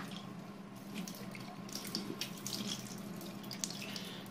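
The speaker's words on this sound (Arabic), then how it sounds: "ونكب شوية مية في الخلاط كده عشان لو في رواسب تطلع" Faint water runs and splashes through a shower mixer valve during a cartridge replacement, a soft steady trickle with small spatters and clinks, alone and without speech.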